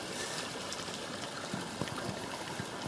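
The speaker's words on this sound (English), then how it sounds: "a little waterfall, very mini" A very small waterfall in a forest, its steady broadband rush of water flowing close by with faint gurgles and splashes, no voices present.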